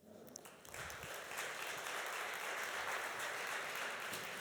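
Audience applause welcoming the opening speaker on the second day of a publishing business conference, building from a few claps into a steady, dense round of clapping with no talk.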